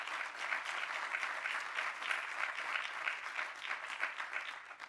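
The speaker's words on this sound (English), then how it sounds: "Could I get a round of applause for the audience, please?" Conference audience at the World Health Summit 2019 digital health session applauding the speakers, a sustained, even wash of many hands clapping at moderate distance with no break.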